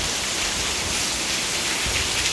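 Rain drips through leaks in a roof during a downpour, a continuous hiss of rainfall with scattered drops close by, no talking.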